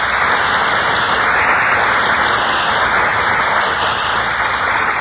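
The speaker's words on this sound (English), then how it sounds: "That burst of applause is for our two stars who just entered from the wings." A loud, steady burst of applause from a large radio-show studio audience as two stars enter, dense clapping sustained throughout without a break.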